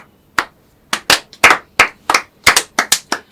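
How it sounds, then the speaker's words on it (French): Scattered audience clapping, a series of about a dozen sharp separate claps in an irregular rhythm, close and loud with near silence between them. "Est-ce qu'on peut applaudir afin de poursuivre?"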